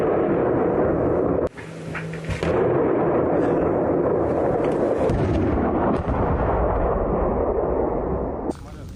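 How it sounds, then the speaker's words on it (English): A Russian tank and an infantry fighting vehicle fire at point-blank range in a village fight in Maryinka, west of Donetsk, a loud booming blast followed by heavy sustained roaring rumble and further bursts nearby. "a Russian tank and an infantry fighting vehicle. They open fire at a point-blank range."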